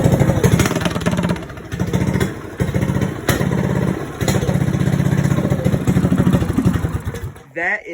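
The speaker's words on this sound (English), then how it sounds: "here's with the aftermarket exhaust" Motorcycle-type engine fitted with an aftermarket Go Power Sports stage 3 racing exhaust runs loud and close indoors in a shop, with a steady throbbing burble and a few throttle surges before cutting out near the end.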